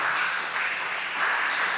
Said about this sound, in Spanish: Dese un aplauso, es más, porque usted es valiente